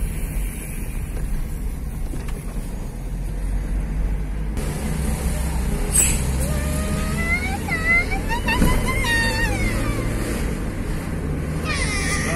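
A motorcycle fitted with an adapted stationary engine and CVT gearbox runs at speed, a continuous engine drone with rising and falling whines as it revs, fairly close and steady.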